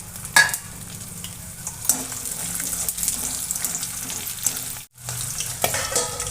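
Garlic dropped into leftover hot oil crackles and sizzles steadily, with scraping stirs and a brief sharp pause midway, close and fairly loud with no talking.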